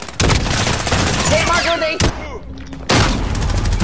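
Shotgun fire in Modern Warfare gameplay: heavy, loud blasts close together at the start, another sharp boom near the two-second mark and a third near the end, with game effects ringing between shots.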